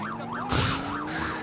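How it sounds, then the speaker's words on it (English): A police car siren in the video game GTA 4 with the LCPDFR mod. It wails in a rapid up-and-down cycle, loud and steady, and a short burst of hissing noise cuts in partway through. "so now I got to run a siren for them to actually respond to me"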